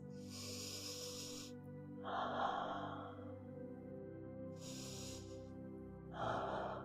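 During yoga, slow deep breathing is heard close and quiet, with alternating hissy inhales and exhales repeating in a calm rhythm under a faint background hum.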